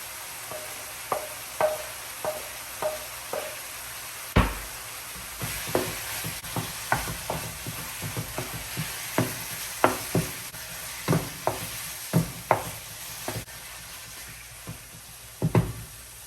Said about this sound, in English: Now I'm gonna add my chopped onion.